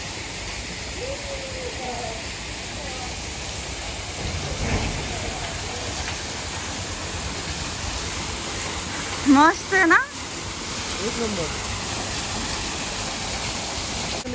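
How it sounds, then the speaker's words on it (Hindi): Steady rain pours at an outdoor resort, a constant broadband hiss running throughout, with people chatting and a couple of brief louder voices over it. "बारिश फिर से आ रही है यार"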